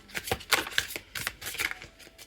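Tarot cards riffle and slap together in quick repeated shuffles, close and fairly soft, with no talking.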